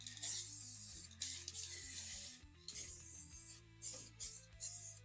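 Bursts of aerosol rust-prevention coating sprayed onto the carpet hold-downs of a Volkswagen Bug under restoration, a steady hiss in about five short passes separated by brief pauses, close and loud over a low background hum.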